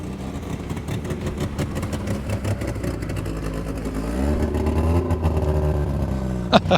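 A Lada Niva engine revs and builds, growing louder toward the end, with a sharp burst near the close; no voices, at the Alterrundan rally event.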